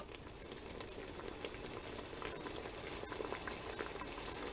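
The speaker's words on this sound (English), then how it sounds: "we're gonna let this keep boiling for about as long as you'd let raw apples boil." Thrive Life Fuji apples boil in a pot of water, a steady close bubbling and popping simmer that continues evenly throughout, with no talking.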